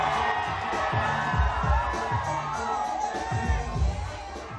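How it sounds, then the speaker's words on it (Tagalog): Spectators at a Pride Month concert performance cheer and shout loudly over thumping stage music with a steady beat, the crowd noise dense and continuous. "sinuklian ng hiyawan ng mga nanonood"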